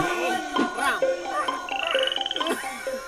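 A man imitates a frog, repeating croaking calls in a quick, uneven series of close, fairly loud bursts outdoors in a jungle camping scene.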